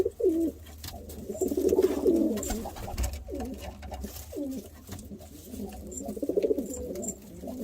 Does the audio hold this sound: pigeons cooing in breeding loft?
yes